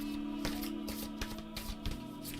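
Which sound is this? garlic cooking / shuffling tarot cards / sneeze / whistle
shuffling tarot cards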